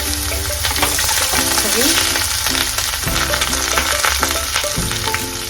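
Onion frying in hot oil for a Sikkimese veg falay, a loud, close, continuous crackling sizzle with stirring throughout.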